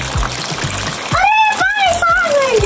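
Water runs from an open tap onto toy cars being washed by two children, a steady splashing trickle close by, with a voice rising over it partway through.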